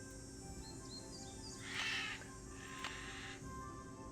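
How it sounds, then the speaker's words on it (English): A loud bird call rings out in the Nancy Drew mystery game set at Moon Lake, a short bright burst of chirping that rises over a steady low ambient hum, then a second fainter call follows. "that was a loud bird"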